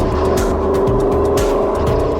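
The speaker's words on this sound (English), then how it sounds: "The car was spitting and sputtering and things like that" Race car engine running rough and sputtering from water in its fuel during a race, a steady loud drone with uneven spitting pulses and a passing whoosh or two.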